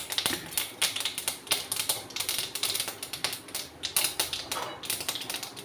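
Mustard seeds pop and crackle in hot coconut oil for a shallot pickle, a rapid, irregular stream of sharp close-up snaps like typewriter keys, with no pause and no talk.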